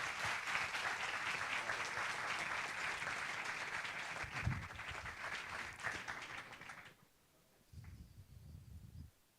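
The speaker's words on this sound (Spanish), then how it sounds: "un fuerte aplauso y a disfrutar" A lecture audience at the Ciencia Jot Down 2017 science event gives sustained, steady applause before a talk on quantum computers, fading out near the end, followed by a few brief sounds from the stage.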